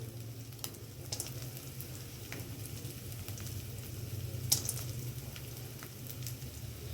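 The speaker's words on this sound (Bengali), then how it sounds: "একটু কাজু আর কিশমিশ সব একসঙ্গে আমি ভেজে নেব।" Cashews and raisins frying together in a pan for paneer cutlets, giving a steady low sizzle with light crackles and occasional sharp pops, close by and fairly quiet, with no talking.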